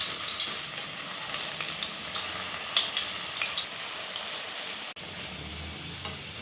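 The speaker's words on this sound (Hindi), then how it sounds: "अब पैन में 2 से 3 कप घी के डाल देंगे, उसको अच्छा सा गर्म होने देंगे। घी हमारा अच्छा सा गर्म हो गया है। अब इसके अंदर पकौड़े डालना स्टार्ट करेंगे।" Pakoras fry in two to three cups of hot ghee in a pan, a steady bubbling sizzle with a few faint clicks and light scrapes, close and continuous without talk.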